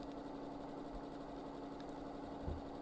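A domestic sewing machine running steadily during free motion quilting, a quiet continuous motor hum with fast needle vibration, fairly faint and unbroken, with a small bump near the end and no talking.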